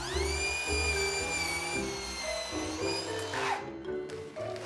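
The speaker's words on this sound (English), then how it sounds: "I'm gonna try to cut the pad while it's still rolled up with a miter saw" A miter saw cuts through a rolled-up carpet pad on a staircase job, with a loud steady motor whine whose pitch sags under load and then spins down near the end.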